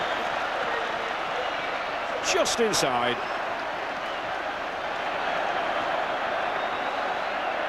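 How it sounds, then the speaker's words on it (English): Hull supporters roar at a 1984-85 rugby league Challenge Cup final against Wigan. The crowd noise is broad and continuous, and a commentator's voice cuts in briefly over it. "And the Hull crowds got something to shout about."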